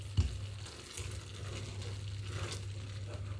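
Butter sizzles quietly in a pan while vodka pasta is being made, a faint close crackle over a low steady hum with a small knock at the start.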